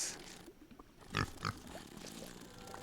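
A pig-fly creature from the video game The Inner World gives a couple of short, snuffling grunts, fairly faint, over a steady hissy ambient background.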